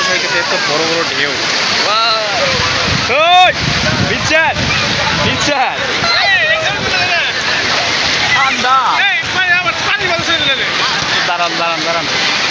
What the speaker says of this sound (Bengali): সমুদ্র সৈকতে এত বড় বড় ঢেউ।